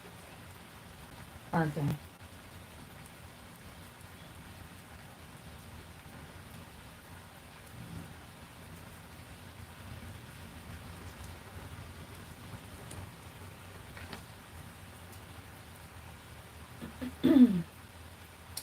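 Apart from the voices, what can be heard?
intense rain falling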